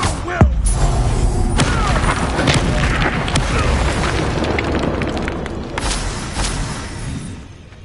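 The Incendio fire spell cast in Hogwarts Legacy: a loud booming burst that opens into a roaring, crackling blaze, with sharp pops and impacts scattered through before it fades.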